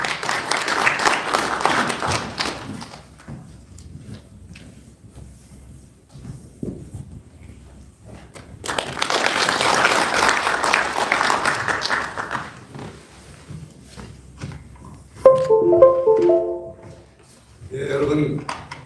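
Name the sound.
audience applause welcoming a speaker to the stage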